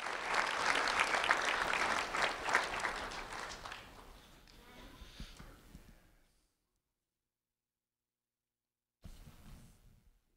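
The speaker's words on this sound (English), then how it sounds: "Round of applause for Mason Dozier" Audience applause at a sheriff's office recognition ceremony, loud and dense at first, then thinning and fading to silence before a brief burst of clapping returns near the end.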